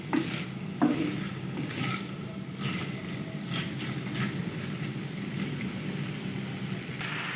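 Chicken pieces cook in a pan until they change colour, with a soft continuous sizzle and occasional stirring scrapes at moderate loudness.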